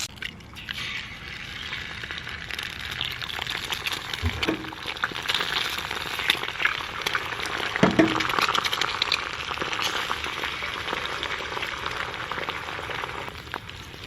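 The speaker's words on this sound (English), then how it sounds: "sausage links from the Granzine's meat market, but they're taking a bit to crisp up" Sausage links from a meat market frying in a pan at an outdoor hammock camp in the Texas wilds: a steady, dense sizzle and spatter with a few louder pops, close by and continuous without talk.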